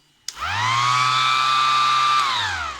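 A Ryobi cordless tool switches on and blows air in one steady, loud whine at a single speed, then winds down near the end.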